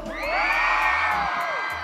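An audience at a live comedy show in Oaxaca cheers and whoops loudly in a sustained burst, with shouts riding over a dense, continuous crowd roar for about two seconds.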